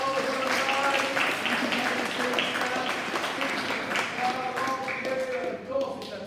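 Pupils and staff clap at a school celebration assembly, a busy round of applause with a voice faintly underneath.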